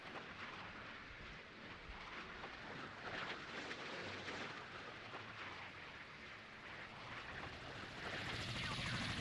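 Mi-14 helicopters in the naval combat game Sea Power, set over the Baltic Sea, produce a low, steady rotor and engine drone mixed with windy noise. The drone is fairly faint and swells toward the end.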